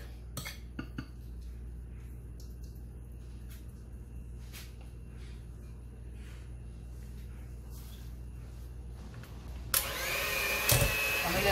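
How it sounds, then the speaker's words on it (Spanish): Quiet clinking of utensils and dishes, then an electric hand mixer starts up near the end with a steady whirring buzz. "con la batidora eléctrica."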